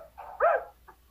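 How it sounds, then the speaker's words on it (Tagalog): Dog giving a single short bark close by, one clear woof with a faint softer yip just after, quick and isolated in a quiet room. "May kasamang tahol."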